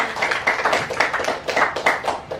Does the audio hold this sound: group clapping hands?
yes